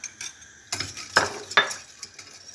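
Spoon stirring milk and sugar with cornstarch in a pot, a few scraping clinks against the metal at irregular intervals, fairly close and alone without talk.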